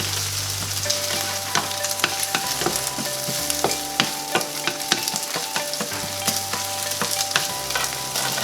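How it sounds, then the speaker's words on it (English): Eggs and onions frying in a pan are stirred steadily, with a continuous close sizzle broken by repeated scraping and clinking of the utensil against the pan; no voices. "Mixing it up there really good with both the onions and the eggs mixing in here."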